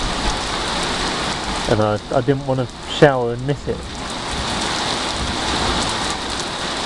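Steady rain pours throughout a London storm, a dense constant hiss close by, with a person talking over it briefly in the middle.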